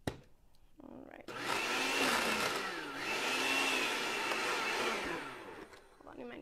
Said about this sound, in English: Sometimes my blender doesn't like to blend.